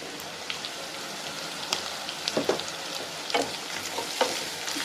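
Ivy gourd frying in a kadai gives a steady close sizzle, broken by scattered scraping and clinking as the pieces are stirred; no one speaks.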